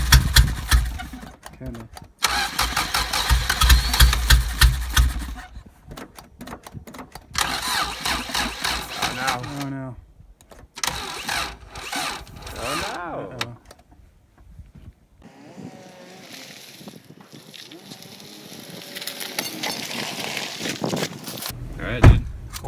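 A budget Subaru rally car engine cranks and fires up in loud bursts, then settles into a rough, steady idle, with pauses and people talking nearby.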